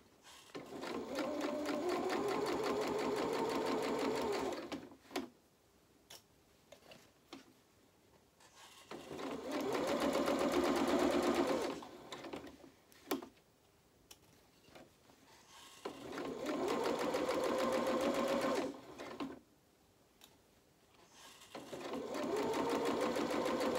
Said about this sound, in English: Just keep rolling the dress forward to you as you're sewing round.